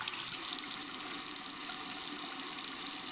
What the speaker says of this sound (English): And then I will squeegee out that excess water